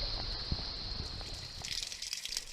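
Water gushes steadily from an outfall with three pipes that normally sit a foot above the water, a continuous rushing wash with a bright hiss that grows busier and more splashy toward the end.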